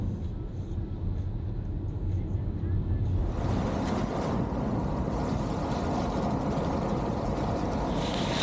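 A car drives along a hedge-lined countryside road in Wales, with a steady, loud rumble of engine and road noise that grows broader and fuller partway through, continuous and close throughout.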